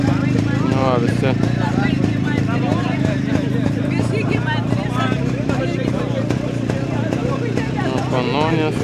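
Old motorcycles rev at a vintage motorcycle gathering, a steady low engine drone running beneath constant crowd chatter and nearby talk.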